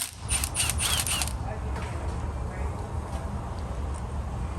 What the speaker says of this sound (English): I'm gonna go ahead and pop out this 12mm bolt up here, and I'm gonna get this tensioner off.